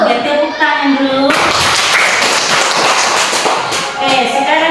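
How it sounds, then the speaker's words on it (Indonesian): Children in a classroom burst into applause, a dense, loud burst of many hands clapping together for about three seconds, with voices heard before and after it. "tepuk tangan dulu"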